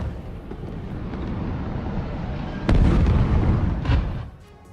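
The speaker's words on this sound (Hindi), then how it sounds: "पूरी रात बड़े धमाके हुए हैं" Distant rumbling blasts of overnight airstrikes in Beirut, Lebanon, with a sudden louder boom partway through, followed by another thud over a continuous low roar.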